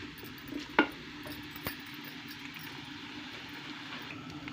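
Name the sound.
mangochiyan frying in hot oil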